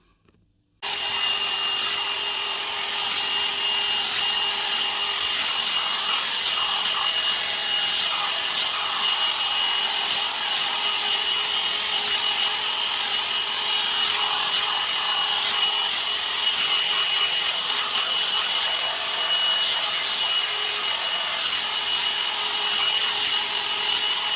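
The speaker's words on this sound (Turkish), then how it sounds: "Şimdi önüme bir fön çekeyim." A hand-held hair dryer switches on and blows steadily while drying the front of freshly dyed hair. Its close, constant whooshing roar carries a faint motor whine and stays unbroken.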